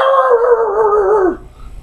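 A dog gives one long, loud, close howl that holds steady and then drops off sharply near the end, followed by quiet.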